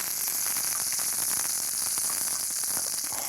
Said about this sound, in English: I love the sound of sizzle, sizzle.